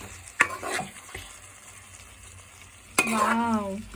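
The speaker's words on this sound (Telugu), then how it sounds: "నేనైతే కలుపుతున్నాను" Chicken bagara curry being stirred in a pot, with scraping strokes and a steady frying sizzle; a sharp clank near the start and another near the end, with a brief harmonic squeal-like tone at the end.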